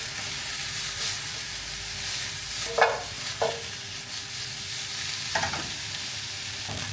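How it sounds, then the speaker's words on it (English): Beef browning over high heat in a pan, a steady broadband sizzle with a few brief louder bursts of spitting or stirring around the middle and later, fairly close and without speech. "we need to brown the beef over high heat"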